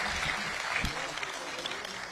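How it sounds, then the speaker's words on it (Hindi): Applause from the crowd at a Hindi poetry gathering, continuous clapping at moderate distance, fairly soft, with a brief low thump midway. "तो इसलिए एक बार जोरदार तालियां सुरेंद्र जी के लिए बजाते हैं।"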